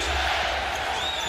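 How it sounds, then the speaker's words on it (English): A basketball arena crowd on its feet during a 2009 Western Conference Finals Lakers–Nuggets game, a dense, loud, continuous roar of many voices that fills the whole moment with no single voice standing out. "Crowd on its feet chanting defense"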